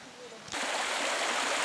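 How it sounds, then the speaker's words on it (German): The Gschöder stream flows into the Salza river at their confluence, running low for the season. A steady broadband rush of flowing water cuts in abruptly about a third of the way through and continues loud and even. "Hier mündet die Gschöder in die Salza."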